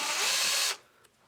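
A power drill pulls screws out of the feet of a Ridge v3 bag; one loud, close whirring burst runs for under a second and then stops abruptly, leaving quiet.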